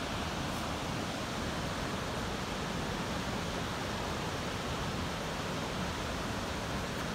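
Mill River Falls in Vermont, running high, roars as a broad unbroken rush of water from close below the falls, steady and loud for the whole stretch with no other sounds.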